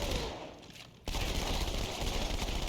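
Halo video game gunfire from dual-wielded guns: a quieter lull for about a second, then sustained dense rapid fire that runs loud and continuous to the end.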